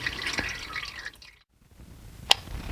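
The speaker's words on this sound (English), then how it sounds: "Make sure you keep your drip pan underneath it, because you're going to have transmission fluid all around here" Transmission fluid drips from a 2006 Subaru Legacy 2.5i automatic transmission into a drip pan, heard as a couple of sharp, clear drops separated by a quiet pause, close to the microphone.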